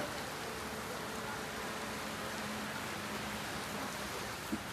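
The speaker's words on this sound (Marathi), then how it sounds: "पाऊस खूप जोराचा आहे." Heavy monsoon rain near Khopoli on the Pune–Mumbai route makes a dense, continuous roar of drops from start to finish, steady and loud, with a faint low hum underneath.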